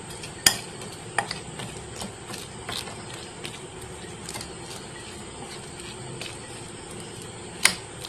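A spoon stirring semai (vermicelli) with added milk in a pot, making soft scraping and swishing with occasional sharp clinks against the metal, steady and close throughout.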